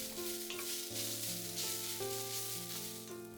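Pork sizzles and crackles steadily in a hot pan as it is stir-fried until lightly browned, with a bed of background music running underneath.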